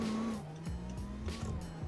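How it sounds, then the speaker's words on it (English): A 1.4 liter Tech GT car engine accelerating uphill, its drone climbing in pitch through several gear changes, heard from inside the car at a moderate, steady level. "Yeah, it's got a pretty basic sounding engine."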